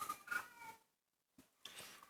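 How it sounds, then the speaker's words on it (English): A cat meows loudly at close range, two drawn-out calls separated by a brief silence, with no other sound around them. "And that's just meowing loudly."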